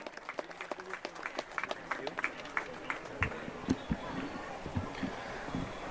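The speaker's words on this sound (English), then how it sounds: "can we have a huge round of applause for him?" An audience at a youth national basketball championship event claps in scattered, uneven bursts at the outdoor courts, fairly near, while voices murmur through the applause.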